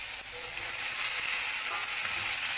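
Cauliflower pieces added to onions frying in a pan, a steady bright sizzle of hot oil running throughout at moderate loudness, with faint scraping of stirring.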